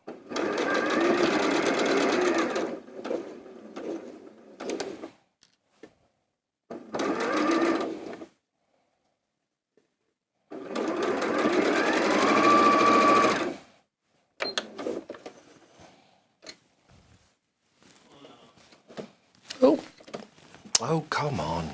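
A sewing machine stitches quilt block seams in several loud bursts of whirring needle runs separated by pauses, with a person talking in between.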